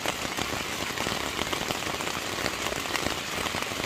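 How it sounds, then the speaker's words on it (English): Heavy rain drums steadily on a tent at Frozen Head State Park, Tennessee, a dense, close, continuous patter with no voices, loud and unbroken throughout. "Crazy, and now it's even raining harder."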